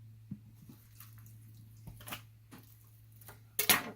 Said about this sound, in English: Rinse my board.